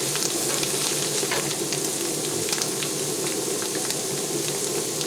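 Chanterelle mushrooms frying in butter in a pan, a loud, steady, close sizzle with dense crackling pops running throughout.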